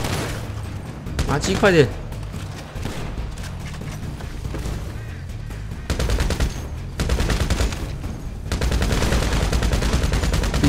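Gunfire in GTA5 with a Walking Dead mod, loud rapid bursts of automatic shots with single shots between them, coming in several separate volleys, while someone shouts excitedly over the shooting.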